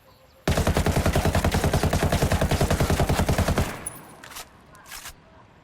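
Assault rifle fired full-auto in a video game weapons test: a loud, close, steady burst of rapid shots lasting about three seconds, then a few faint clicks and tail-off.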